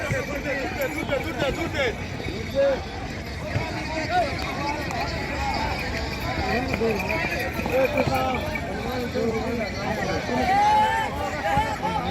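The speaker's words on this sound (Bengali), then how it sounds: "এই ঘোড়াটা ভালো দৌড় দিচ্ছে, অনেক জোরে জোরেই দৌড়ায়।" Horse hooves clip-clopping at a speed at a traditional rural fair in Gopinathpur, a steady rapid rhythm running under a dense crowd babble and nearby voices throughout.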